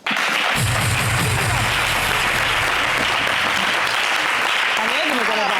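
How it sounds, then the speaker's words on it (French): A studio audience on a French-language TV game show applauds a contestant, dense sustained clapping that swells loud and close, with voices and low musical tones mixed in beneath it. "On applaudit."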